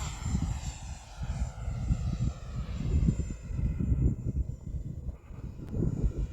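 An E-Flite 80mm F-16 Thunderbird radio-controlled electric ducted-fan jet roars steadily overhead just after takeoff on its first flight, a continuous whooshing drone that swells and fades slightly with no voices.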